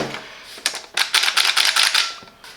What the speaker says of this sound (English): At the front remove the union nut